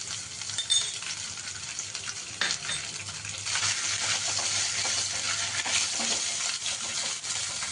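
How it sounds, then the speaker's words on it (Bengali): Chopped coconut fries in oil tempered with five-spice and dried chilli, a soft continuous sizzle with occasional stirring scrapes and light clinks of a utensil against the pan. "নারকেলটা একটু ভেজে নেব।"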